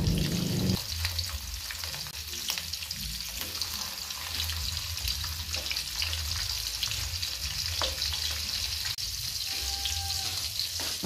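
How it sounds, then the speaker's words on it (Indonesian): Flour-coated pindang fish fries in hot oil over a low flame, giving a loud, steady, close sizzle with a brief louder burst at the start and occasional faint clinks, with no talking. "Terus digoreng."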